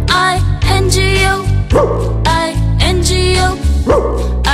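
Cartoon dog barks in a children's nursery rhyme about a farmer's dog, a few loud yips recurring in rhythm over a steady, busy musical backing.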